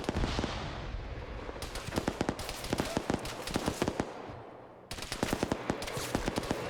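Video game gunfire aimed at a BTR-80 armored vehicle, rapid bursts of sharp shots in dense clusters, loud and close, with a brief lull before the firing resumes.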